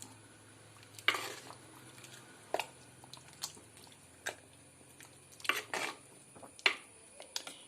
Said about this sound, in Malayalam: ഇനി നമുക്ക് ഇതൊന്ന് ഇളക്കി കൊടുക്കാം